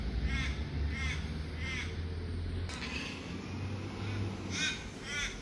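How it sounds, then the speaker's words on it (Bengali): Several crows caw outdoors on a breezy morning, repeating harsh calls at a moderate distance, in groups of two or three, over faint wind noise. "অনেক অনেক কাক এখানে।"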